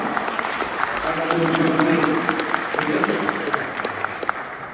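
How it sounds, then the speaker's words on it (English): A room claps steadily for several seconds at a membership meeting while a voice speaks over the applause, which thins out toward the end. "please give a round of applause to Ronald Rodendijk."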